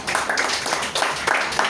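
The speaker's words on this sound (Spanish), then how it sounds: "Dale un aplauso al Señor." A church congregation applauds during a Sunday service, a dense, steady wash of many hands clapping together, loud and sustained with no voices standing out.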